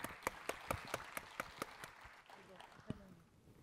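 Scattered claps from a small audience at an astronomy symposium plenary lecture, sparse and uneven at first, then thinning out quietly over a few seconds.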